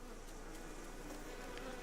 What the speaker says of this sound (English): There's some fucking bees